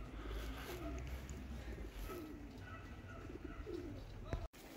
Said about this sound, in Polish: Tam ile gołębi lata, zobaczcie.